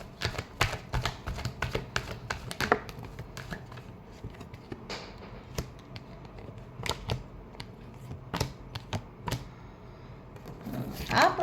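Tarot cards shuffled by hand, giving repeated crisp riffling and snapping bursts in an irregular rhythm, close and fairly quiet, with no talking.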